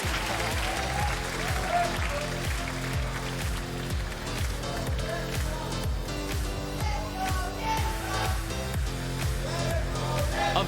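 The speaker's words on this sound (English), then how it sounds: "And Excel fans can cheer with pride." Excel Esports fans in an LEC League of Legends arena clap and cheer steadily and loudly throughout, a dense crowd roar under a lively backdrop.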